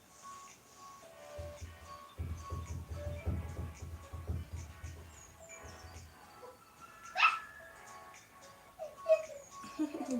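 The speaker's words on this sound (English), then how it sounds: "You're barking like a dog puppy." Small puppy barks indoors, a few faint yips and a brief whimper in a quiet room, with soft brushing and rustling in between.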